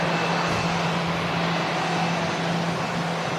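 A Jet2 Boeing 757 at Manchester Airport roars steadily with a loud, sustained jet engine drone and a constant low hum, unbroken for the full length with no voices.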